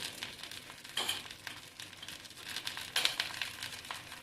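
Cardamom pods and cinnamon bark roast dry in a pan over a low flame with a soft, crackly sizzle, punctuated by a couple of brief scraping stirs, close and fairly quiet, with no talking.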